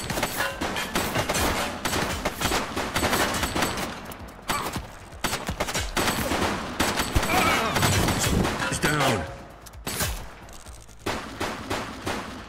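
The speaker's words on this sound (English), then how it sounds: "He's shooting!" Rapid bursts of gunfire fill a shootout in The Precinct, a police video game, with loud repeated volleys and fusillades, brief gaps between them, and voices shouting over the shooting.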